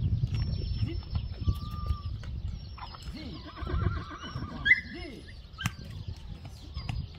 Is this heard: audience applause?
no